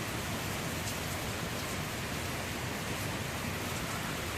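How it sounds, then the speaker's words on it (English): Steady rain falls in Springfield, a dense, even hiss of drops on surfaces that stays constant throughout with no voices. "Hopefully it just keeps raining like this next 4 days."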